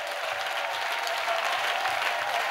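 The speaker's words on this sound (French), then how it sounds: "Clap for Jesus." A church congregation claps for Jesus during a prayer service, steady, dense applause filling the room evenly throughout, with no words spoken.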